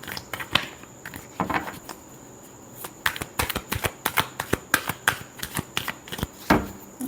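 Tarot cards being shuffled by hand during a reading, a run of crisp papery riffles and snaps in uneven bursts, close and fairly loud with no voice.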